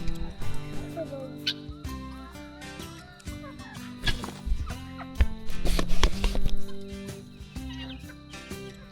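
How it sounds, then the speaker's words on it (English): Several wild turkeys and other farm fowl gather at dinnertime on a Queensland campsite, clucking, gobbling and calling over one another in a busy, close chorus with scattered sharp squawks. "The menagerie eating Ryker's dinner"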